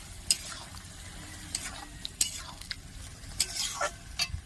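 Ridge gourd and potato being stirred with poppy seed paste in a pan, soft scraping strokes with a faint sizzle underneath and a few sharp utensil clinks, quiet and close.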